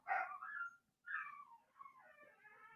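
A dog barks and whimpers indoors, two rising yelping cries followed by a drawn-out whine, fairly close and clear, with no talking over it.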